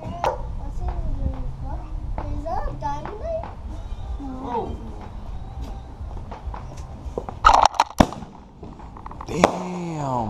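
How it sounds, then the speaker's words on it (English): Fireworks pop on the Fourth of July, a few sharp close bangs and crackles near the end, while children and adults talk and call out outdoors beforehand. "He wanted to eat the firework."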